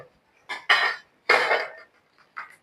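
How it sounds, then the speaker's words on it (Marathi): A knife cutting bitter gourd (karela) to scoop out the seeds, a few separate sharp scraping and clinking strokes against a board, close and clear with quiet gaps between. "चाकून चिरून घेऊया."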